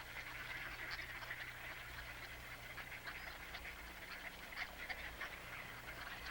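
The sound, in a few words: ducks and other migrating waterfowl calling on a marsh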